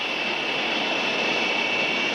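Steady jet drone of a tanker airplane flying near a 1954 Boeing B-47 Stratojet, a continuous even roar with a faint whine, heard from inside or close by with no voices.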